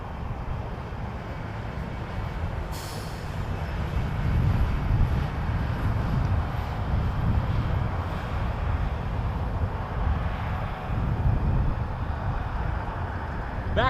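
McDonnell Douglas MD-11 at Toronto Pearson Airport, a distant continuous jet roar that rises and falls gently for the whole stretch, low and broad, with no talking.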